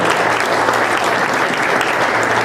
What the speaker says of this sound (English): We should give Carolyn another round of applause for all that she does as well